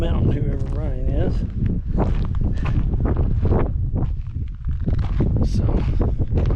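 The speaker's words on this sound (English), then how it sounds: "It's pretty windy, so I'm sure you're probably hearing on the" Strong gusty wind at the summit of Ryan Mountain in Joshua Tree buffets the microphone with a loud, steady roar, while a person talks over it the whole time.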